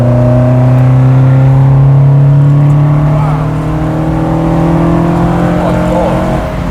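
Modified 1984 Ford Capri Mk3 with a 2.1 litre Pinto engine pulling hard under acceleration, a loud, steady engine drone rising in pitch, heard from inside the car with a gear change partway through.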